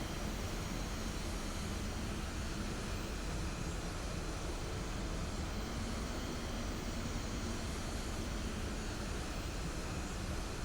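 A steady airplane engine drones in Kerbal Space Program 2, a constant broadband roar that holds at even loudness for the whole stretch with no voices over it.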